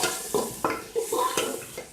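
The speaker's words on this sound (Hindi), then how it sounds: "इसको आप मिक्स कर लें अच्छे से" Spices sizzling in a pot for Sindhi biryani, with a utensil stirring and scraping in several quick strokes, close and moderately loud.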